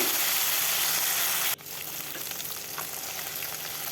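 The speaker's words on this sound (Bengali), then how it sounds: "এইভাবে উল্টে পাল্টে আমি ভেজে নেবো" Pomfret fish frying in oil as the pieces are turned: a steady, close, dense sizzle that drops abruptly to a softer, still continuous crackle partway through, with no voices.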